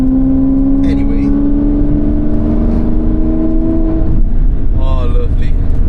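A car with an automatic transmission drives along at a steady pace, its engine a constant close hum with a rising whine, and a voice is heard briefly over it.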